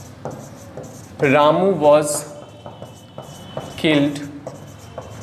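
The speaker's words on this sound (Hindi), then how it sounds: "अब जैसे देखिए एक एग्जाम्पल हम लिखते हैं" Pen or chalk scratching out an example sentence on a writing surface, short rubbing strokes in bursts around someone speaking in between.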